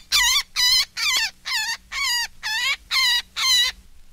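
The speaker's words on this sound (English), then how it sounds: "Listen to this woodpecker in distress, a terrific calling sound, especially for cats and coyotes." A recorded woodpecker distress call used for calling predators: eight loud, harsh, raspy squalls in a steady rhythm, each about a third of a second long, close and alone with no talking.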